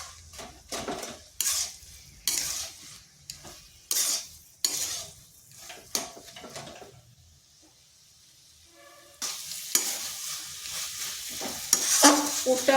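Cabbage filling stirred with a metal spatula in a pan, scraping and clinking in quick irregular bursts with a faint sizzle underneath, pausing briefly near the middle before resuming louder.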